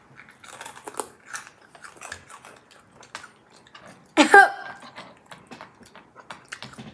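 Close-up crunching of crisp chocolate cereal being chewed, with irregular bites and one louder crackling burst in the middle.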